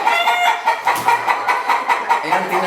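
Chickens cluck loudly and close by in a steady, rhythmic run of repeated calls, one bird's voice dominating with a faint lower sound briefly beneath.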